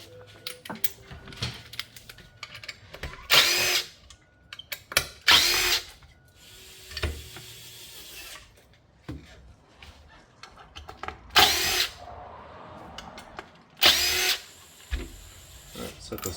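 A cordless drill driver backs screws out of a handle in short whirring bursts with pauses between, mixed with small clicks and handling noise, fairly close.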